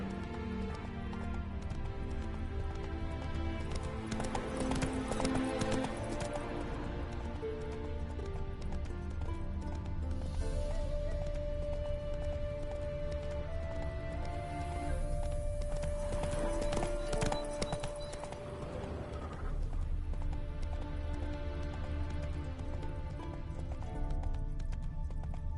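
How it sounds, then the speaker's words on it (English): Horse hooves gallop in a fast, continuous drumming in The Witcher 3, loud and close throughout, with a faint whinny, soft game music underneath and occasional speech. "Horse was carrying a heavy load."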